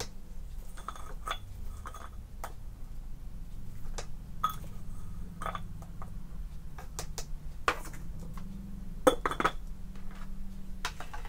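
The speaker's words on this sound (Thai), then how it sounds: "คนให้ทั่วเลยนะครับจนน้ำตาลละลายนะครับ" A metal spoon clinks against a 22-ounce glass while stirring sugar into iced black tea, a series of bright, irregular taps and chimes close up over quiet background.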